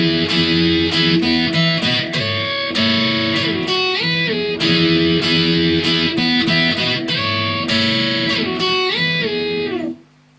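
Electric guitar playing the funky intro riff of a song, choppy bright strummed chords and single-note runs with a clean, slightly effected tone, loud and alone, stopping abruptly at the end.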